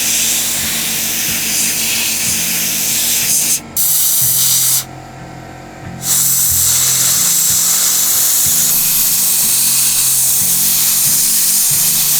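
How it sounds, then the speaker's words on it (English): A flap disc sands a chainsaw-carved wooden bear, a steady loud abrasive whir with two brief pauses where the tool drops out before the grinding resumes. "then I'm gonna flap sand it down so it smooths everything out"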